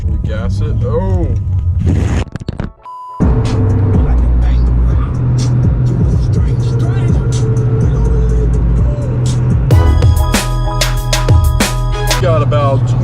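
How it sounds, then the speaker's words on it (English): Z71 pickup truck accelerating hard after the clutch is let out, engine roaring loud and close throughout with a brief dropout, a person speaking over it. "First, let my foot off the clutch, we gas it."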